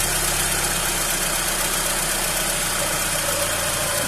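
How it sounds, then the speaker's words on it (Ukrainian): A Mercedes-Benz W124 engine with a Solex carburettor idles roughly and unevenly on a lean fuel mixture, close to stalling, a steady close mechanical drone with a shaky, lumpy rhythm and no voices. "Двигуном починає трусити, зараз заглохне"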